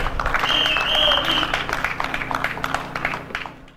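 An outdoor crowd at an election rally for a parliamentary candidate breaks into applause, a loud burst that swells then gradually fades, mixed with a voice over a loudspeaker.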